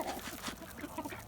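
Backyard chickens cluck and chatter softly around a sprinkling of mealworms and black soldier fly larvae, several overlapping short calls close by at low volume.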